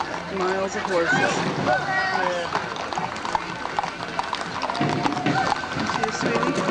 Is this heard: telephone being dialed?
no